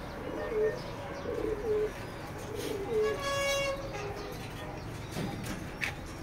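Male racing pigeons in a loft give soft, intermittent coos and faint chirps over a steady low background hum, with no one speaking.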